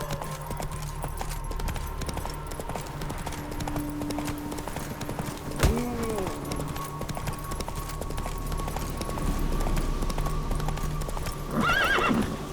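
Geralt's horse Roach gallops in The Witcher 3: Wild Hunt, steady rapid hoofbeats with several whinnies and neighs over game music and ambience.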